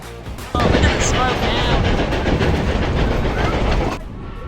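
A Durango and Silverton narrow gauge train rolls along, heard from on board as a loud, dense rumble and rattle of cars on the rails that rises abruptly and fades near the end.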